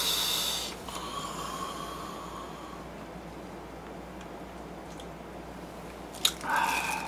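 Close, moist chewing and biting of spicy bulgogi pizza with a holey, airy crust, soft squishy mouth sounds and breaths carrying on steadily with no talking, ending in a sharper crunchy bite.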